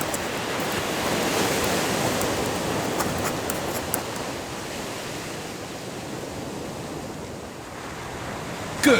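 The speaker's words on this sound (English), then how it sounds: "It's another quite windy day here on the east coast of this Pelion Peninsula." Wind and surf roll in a continuous broadband wash on the windy east coast of the Pelion Peninsula in Greece, with steady breaking waves and no voices.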